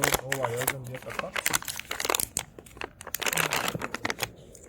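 Plastic packaging around a Riaario 45A ESC is pulled apart, giving close, loud crinkling, crackling and tearing in quick bursts, while someone talks over part of it.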